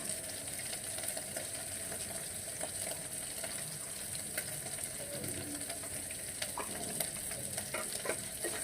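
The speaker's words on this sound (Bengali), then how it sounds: "পেঁয়াজ কুচি দিয়ে চিংড়ি মাছের সাথে ভালো করে আবার ভাজি করে নিব।" Chopped onion fries with prawns in a pan, a faint, steady sizzle with light stirring clicks and scrapes throughout.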